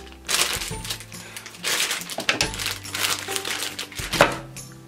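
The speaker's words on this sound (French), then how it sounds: "Je me fournis de mes ciseaux et je coupe." Scissors snip through plastic packaging of a paintbrush kit, several crisp crinkling cuts in bursts, close and fairly loud with no voices.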